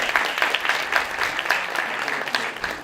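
Warm, big applause from an audience at an international community event, a steady dense wash of clapping close to the listener with no voices over it.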